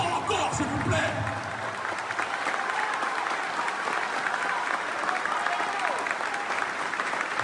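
A large crowd at a political rally applauds loudly and continuously, dense clapping mixed with cheers filling the whole stretch, with a voice briefly audible at the start.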